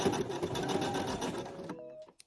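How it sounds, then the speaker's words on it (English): A domestic sewing machine runs a straight seam with back-tacking, a close, steady mechanical whir and needle chatter that stops abruptly near the end, followed by a couple of small clicks. "And then I'm literally just going to sew in a straight line."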